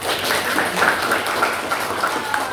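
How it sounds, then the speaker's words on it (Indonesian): A classroom audience claps for a few seconds, a soft, steady patter of hands, fairly quiet and slightly distant. "Boleh tepuk tangan"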